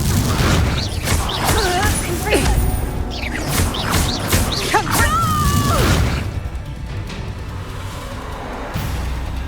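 Spell blasts from Confringo in the Hogwarts Legacy video game land as booming, crashing impacts with whooshes, mixed with shouted voices and game effects, then a quieter rumbling ambience follows.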